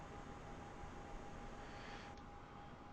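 An airplane engine in Microsoft Flight Simulator 2020 gives a faint, steady drone with a constant tonal hum running underneath, unbroken throughout.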